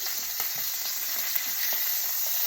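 Steak frying with butter in a pan, a steady close hiss of sizzling with small crackles and pops running throughout, no voices.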